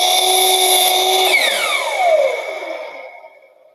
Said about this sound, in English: I'm going to pull the trigger on it, drop the saw straight down into it, then let off the trigger